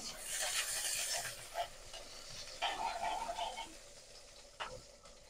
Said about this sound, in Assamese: তাৰপিছত পিঁয়াজখিনি অলপমান ভাজি লওঁ।